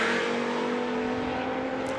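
Porsche 917 race car at a high-speed demonstration, a steady droning engine note sustained throughout, heard at moderate distance without speech.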